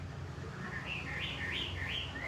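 Small birds for sale chirp and tweet steadily at a roadside spot in Hai Duong, Vietnam, their calls close and repeated over a continuous low hum of background noise.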